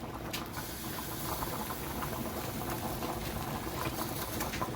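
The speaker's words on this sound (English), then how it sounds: "now that the broth is boiling, we'll add the sausages back in" Broth for bangers and mash boiling hard in a pot with sausages about to go back in, a dense, continuous bubbling and popping at close range, no speech.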